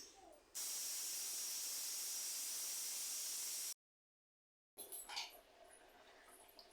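A pressure cooker steaming on the stove while cooking goat meat, giving a steady loud hiss for about three seconds that cuts off abruptly, followed by quieter kitchen noise.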